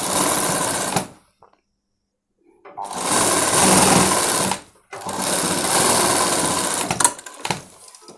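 Sewing machine stitching school uniform coat cloth in loud, fast whirring bursts, the first about a second long, then a pause with faint handling, then two longer runs of about two seconds each separated by a brief stop.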